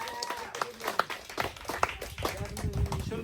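A crowd at a medal award ceremony claps in a short burst, with scattered uneven claps under background voices.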